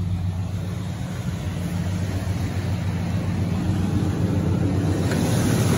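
A 1982 Cadillac Fleetwood Brougham's 400 V8 idling in clean condition, giving a steady low rumbling hum, close and continuous without talk.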